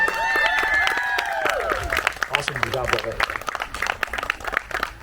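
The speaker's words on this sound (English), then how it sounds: "Give him another big round of applause." Audience applause rises at a local unplugged Tamil concert in a Pearland library, a dense burst of clapping that thins over several seconds while a voice speaks over it and sustained musical tones fade early on.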